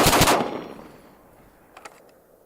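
An AR-15 rifle fitted with a Rise Armament RA-535 drop-in trigger fires a quick, loud burst of shots outdoors, echoing away into quiet, followed by a few faint clicks.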